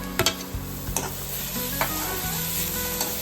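Capsicum and green chillies roasting in a pan for masala pav, a close, steady sizzle punctuated by sharp spatula scrapes and knocks against the pan.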